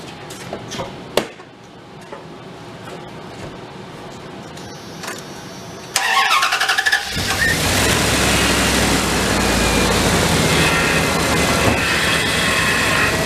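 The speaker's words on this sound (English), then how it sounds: "Alright, truck hasn't run in about 2 weeks or so. Let's fire it up" An old plow truck that has sat unused for about two weeks fires up after some clicks and clanks, its engine catching and settling into a loud, steady, rough roar close by.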